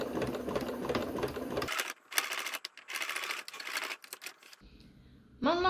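A sewing machine runs a straight stitch along the seam of a cushion, buzzing in several close bursts separated by short pauses.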